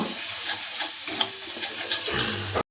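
Red chilli and turmeric powder are stir-fried with a spatula in a hot pan for a raw plantain kofta curry, a close, steady sizzle with scraping strokes that ends in a brief cut.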